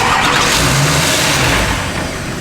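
A Duramax diesel in a wrecked K20 truck being swapped turns over with a loud, close, continuous engine rush that eases slightly toward the end.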